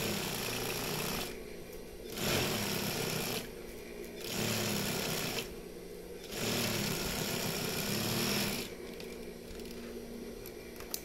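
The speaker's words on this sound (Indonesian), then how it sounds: "di sini saya akan jahit double ya. Jadi kita jahit lagi, kita setik lagi" A sewing machine double-stitches a seam on a baju koko shirt, running in loud, close bursts of about two seconds separated by short pauses, with a steady mechanical whir during each run and no talking.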